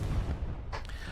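Explosions and booms from the online shooter Hell Let Loose during a competitive seasonal match, heavy low rumbling throughout with a sharp burst near the end, loud and dense.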